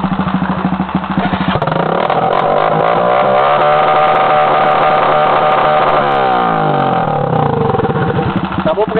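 A mud motorcycle's engine roars loudly and steadily throughout, with a throaty, rough tone that rises and falls as the throttle is worked, close to the listener.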